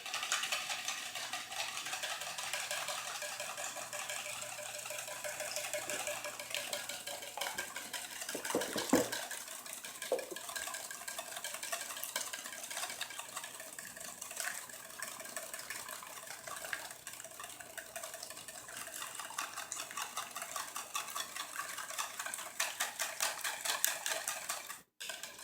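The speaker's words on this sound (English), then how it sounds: "we'll be whisking all 5 eggs together" Five eggs being whisked together in a bowl for pancakes, a fast, steady clicking and sloshing that runs the whole time at a close, even level with no talking.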